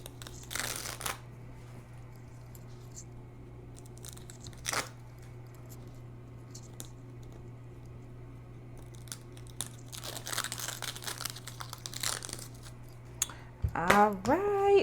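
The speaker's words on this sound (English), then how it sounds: "And I just like to grab just a little piece and lift and then start tearing it away," Appliqué fabric stabilizer being torn away by hand, with a few short ripping and crinkling bursts near the start and middle, then a longer stretch of tearing toward the end over a steady low hum.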